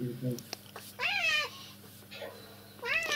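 A house cat meows several times in a quiet room, the cries clear and close, with a person speaking softly between them.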